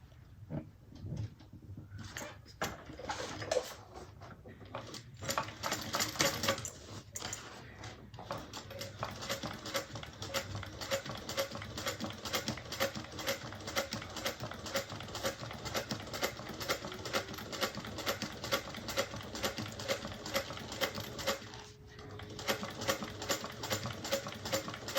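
A home sewing machine stitches a Kellie bag in rapid, even bursts, close and fairly quiet, pausing briefly between runs for nearly the whole time, with no talking.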